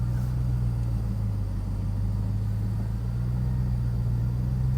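A 700hp RAM TRX truck eases into mud at an angle, its engine a steady, close, low rumble that holds evenly throughout with no talking.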